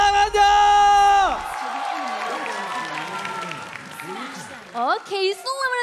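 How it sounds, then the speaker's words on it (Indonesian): An arena crowd at a Mobile Legends MPL Indonesia esports match applauds and cheers loudly and steadily, with tonal music and a caster's voice over the top throughout. "mana tepuk tangannya?"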